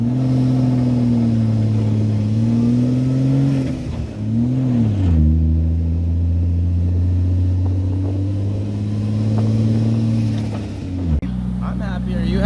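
A Q45 car engine runs steadily as the car drives under its own power, a loud continuous hum that dips and shifts in pitch with a gear change, while people talk over it.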